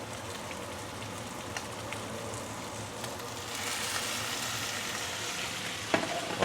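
Garlic roast pork sizzles and fries steadily in a hot wok right after Shaoxing wine is added. The hiss swells slightly partway through, with a faint clink of stirring near the end.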